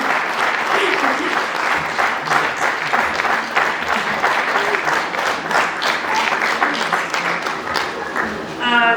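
Sustained audience applause at a vocal studio solo concert: dense, continuous clapping from a full room that holds steady for several seconds, with faint voices mixed in.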